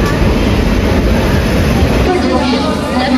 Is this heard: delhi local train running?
yes